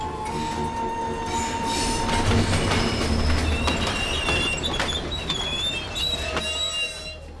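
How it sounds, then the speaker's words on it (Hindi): A train pulls in with a loud, steady rumble, squealing wheels and high metallic screeches, rattling clicks running through it, heard close by for several seconds. "मेरी ट्रेन आ गई है, गुड बाय।"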